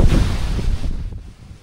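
Strong typhoon Uwan wind buffets the microphone in a loud, deep roaring gust that peaks at once and then gradually eases and fades, with no voices.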